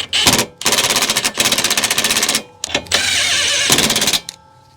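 A cordless impact wrench snugs lug bolts on its lowest setting during a Toyota Corolla CV axle job, firing in several loud, rapid hammering bursts separated by short pauses, close up with no talking.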